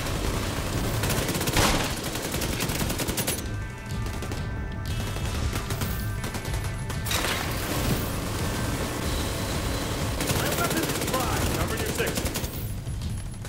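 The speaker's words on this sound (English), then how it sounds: "my submachine gun's got sound" Submachine gun fire in The Division 2, dense bursts of rapid automatic shots running almost continuously, loud and close, with brief lulls between strings of fire.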